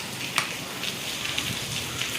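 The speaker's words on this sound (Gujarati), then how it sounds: "વરસાદ હજી પણ કન્ટિન્યુ એવો જ છે" Heavy rain falls in a steady, dense downpour at night, a continuous close hiss with a few louder individual drops striking a surface, and no voices.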